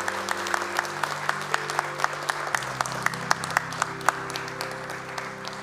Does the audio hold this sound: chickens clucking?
no